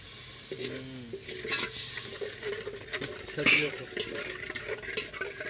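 Chutney sizzles and crackles in a hot pan over a wood-fire stove outdoors in a forest, a steady frying hiss with occasional stirring scrapes and brief bits of talk nearby.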